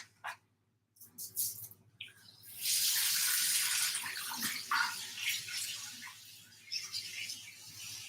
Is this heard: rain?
no